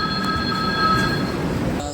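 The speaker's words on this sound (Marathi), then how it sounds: "फायनली आमची ट्रेन गेली आहे" A train departs a station at Badnera, rumbling past with a steady metallic drone and high whining tones, close and continuous, with a sharp squeal near the end.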